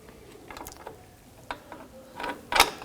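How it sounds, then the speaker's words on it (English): Brake shoe adjuster being threaded in on the rear drum brakes of a Jeep Wrangler, a series of faint metallic clicks and ratcheting scrapes, growing louder toward the end. "I'm going to thread it all the way in."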